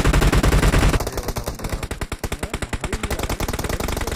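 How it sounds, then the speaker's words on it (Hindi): Automatic weapon fire in BGMI, a mobile battle royale game: a dense, loud burst of shots followed by a rhythmic string of distinct rapid shots, with no voices. "इस पीछे से गोलियां पड़ रही हैं।"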